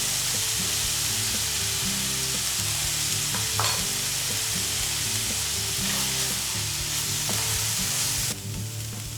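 Flour is stirred into softened vegetables sautéing in a pan for a vegan tempeh stew, giving a steady close sizzle with scraping spoon strokes throughout, and no one speaks.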